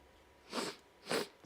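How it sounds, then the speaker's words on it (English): Two short, close sniffles into a microphone, evenly spaced about half a second apart, with quiet room tone between them. "Sorry for sniffling in the microphone."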